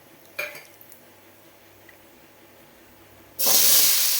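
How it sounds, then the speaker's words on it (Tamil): A light metallic clink sounds, then a quiet stretch, then a loud sizzling hiss bursts in as cinnamon, cloves and cardamom hit hot ghee. "பட்டை கிராம்பு ஏலக்காய் தாளிக்கிறது"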